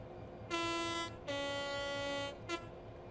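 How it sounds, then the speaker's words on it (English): A train horn on the Southeastern High Speed unit in Train Sim World 3 sounds three blasts, short, long, then a brief toot, over a steady low engine rumble. "Very crisp, rich sounding horn there."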